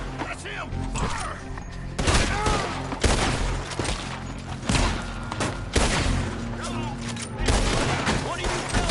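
Gunfire from Red Dead Redemption 2: repeated loud shots and a fusillade of overlapping blasts, with heavy thuds near 2, 3, 5 and 7.5 seconds over a busy game soundscape, with voices talking in between.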